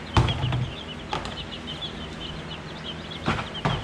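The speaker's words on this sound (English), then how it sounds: "So take a look at my chicken babies." Baby chicks of two breeds peep and cluck in a tub, with a few sharp bursts of wing flapping or scuffling against the container; the sounds are close, intermittent and no one talks over them.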